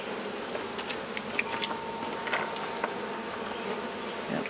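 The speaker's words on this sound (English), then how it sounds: "Yep, some bees." Honeybees buzz around an open beehive that has small hive beetle present, a steady close swarm drone with individual bees droning louder as they pass near, and no talking.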